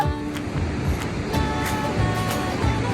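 Pacific Ocean surf rolls in at a beach: a constant broad roar of breaking waves with wind, close and steady throughout, with a low rumble underneath and no talking.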